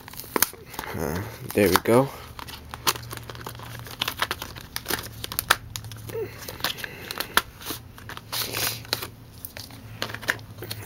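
Crinkling and tearing of the plastic and cardboard packaging of an Incipio NGP case for a 4th-generation iPod touch, with close, irregular rustles and crackles plus a short voiced remark early on.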